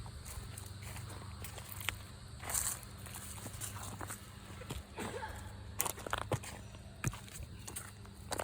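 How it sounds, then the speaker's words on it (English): Footsteps in woodland, faint scattered crunches and thumps of movement through brush and leaves, irregular and somewhat distant against a quiet outdoor background. "There were footsteps coming from up there."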